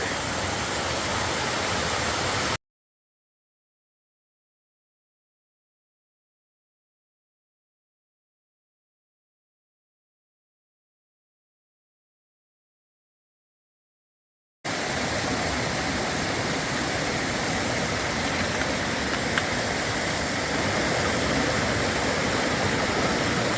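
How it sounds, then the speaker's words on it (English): Eliza Brook, a mountain stream in New Hampshire, rushes in a loud, dense, unbroken roar close by. The sound cuts out completely for about twelve seconds in the middle, then the same steady flow resumes. "We're going to continue following the stream for a ways."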